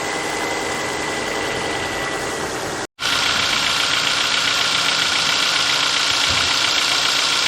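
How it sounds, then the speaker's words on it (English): A Ford Focus Mk1 engine idles steadily and smoothly close by, a continuous even running hum with no judder, briefly cut out for a moment partway through. "That is one smooth and happy engine. It's not even juddering a bit."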